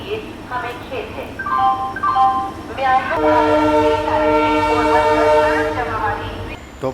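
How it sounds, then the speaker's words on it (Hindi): A diesel-hauled Barmer–Yesvantpur AC Express at speed sounds a long, loud horn with steady tones, over continuous rumble and rail noise, while a voice talks underneath. "वापी से निकलने के बाद आप डीजल इंजन के साथ 130 का एक्शन जो है वो एंजॉय करो"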